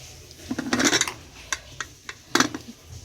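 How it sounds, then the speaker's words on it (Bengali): Boiled pumpkin being mashed in a metal pot gives a few soft scraping, clinking strokes of a utensil against the pot, brief and close, with quiet pauses between. "এখানে এখন কুমড়ো সেদ্ধটা মাখছি তারপর আলু সেদ্ধ মাখবো"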